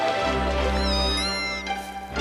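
A young cat meows in a drawn-out, rising cry that ends in a shorter call, loud and close with no other sounds.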